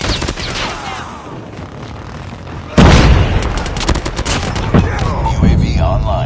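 Rapid automatic gunfire and loud bursts from Call of Duty Mobile multiplayer, with sporadic shots at first and then a sudden, dense, close barrage of repeated shots and booms.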